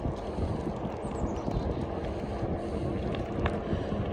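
Steady breezy wind buffets the microphone during an e-bike ride on the Nature Coast Trail in northwest Florida, a continuous broadband rush that stays at an even level throughout with no voices.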